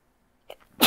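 A single sharp sneeze bursts out at the very end, loud and close, preceded by a couple of soft breathy intakes.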